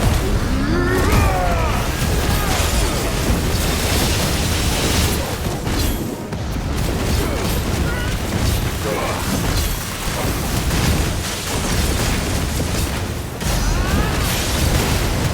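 A boss in Final Fantasy 16's Rising Tide DLC, played on PS5, looses fire shots and charged fire shots. The result is a dense, continuous barrage of booming bursts and rumbling impacts with no pause in between.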